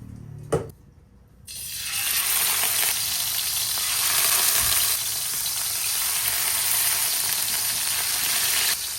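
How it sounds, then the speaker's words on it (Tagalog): Pork loin sizzling in a pan in its own rendered fat for bistek tagalog, a steady loud hiss that starts abruptly after a brief clatter and carries on unbroken, with no talking. "Prituhin lang natin ito."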